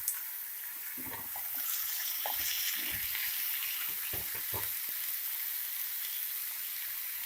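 Chopped tomatoes for coriander tomato chutney sizzle and fry in a pan, a steady close hiss broken by several soft stirring knocks, with no talking.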